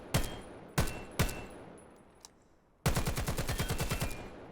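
Scout rifle fire in the VAIL VR game: three sharp single shots spaced apart, a short pause, then a rapid run of evenly spaced shots, loud and close with no talking.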